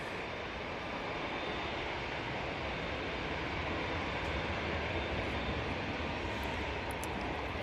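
A Turkish Airlines airliner coming in to land at Manchester Airport gives a steady, loud, broadband jet roar that holds evenly throughout without pause.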